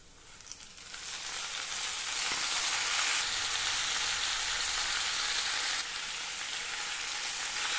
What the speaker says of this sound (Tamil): 1 நிமிஷத்துக்கு வதக்கணுங்க